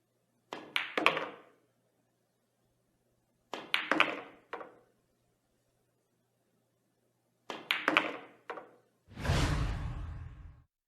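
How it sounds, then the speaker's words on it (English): Pool cue ball stun shots on a billiard table: three sharp knocking clusters of cue tip striking ball and ball hitting ball, each followed by a brief rattle, then a broad thud-whoosh as a ball drops, close and clear with no talk. "Since the shot is straight on, a stun shot is the perfect solution to avoid a scratch."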